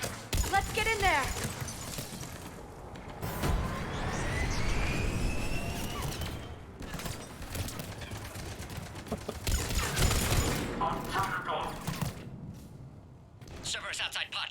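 Gunfire in the video game Mass Effect Legendary Edition, with bursts of shots and impacts mixed into loud combat noise and game dialogue.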